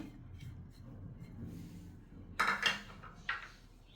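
Corn kernels tipped into a bowl, a short cluster of faint clinks and rattles near the end after a quiet, low background, heard up close with no talking.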